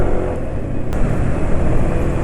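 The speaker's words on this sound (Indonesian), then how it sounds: "tapi yang rock oil ini suara mesin nggak begitu halus tapi licin" A motorcycle engine idles and runs steadily on Rock Oil full synthetic 5W oil, a continuous close low rumble with a brief faint tick near the start.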